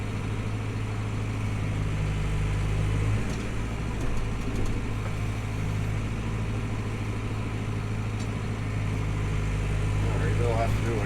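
A tractor engine runs steadily at a constant throttle while spreading manure down a road, a loud, continuous low drone with a speaker talking over it.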